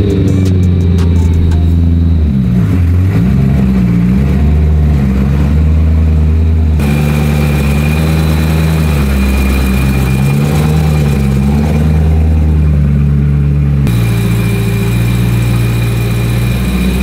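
A BMW E91 M3 wagon's engine runs steadily nearby as the car is driven into a garage, a low idle with a few gentle revs and a brief shift in tone partway through, with no talking.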